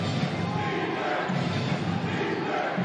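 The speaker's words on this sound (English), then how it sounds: "We're hearing chants of defense now here" A dense basketball playoff crowd in Zamboanga fills an arena, its chant of defense a steady roar of many voices with no clear beat.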